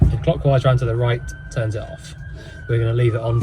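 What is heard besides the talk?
No distinct noise like a dog, phone or traffic.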